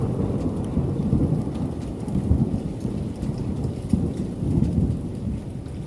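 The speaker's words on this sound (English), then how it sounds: "It's a crazy thunderstorm right now." A heavy thunderstorm with steady rain falling on surfaces and low, rolling rumbles of thunder, constant and fairly close, with no voices.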